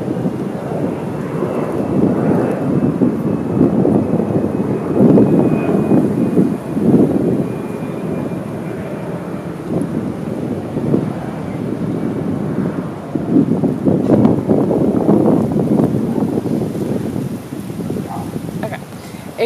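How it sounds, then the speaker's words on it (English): An airplane passes overhead, a low, steady rumbling drone that fills the whole stretch, with a voice speaking over it. "hold on, there's the airplane, one second."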